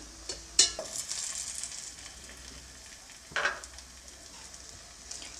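Onion parotta frying in a little oil on a hot pan, a steady low sizzle throughout with a couple of brief louder crackles near the start and again midway, no voices.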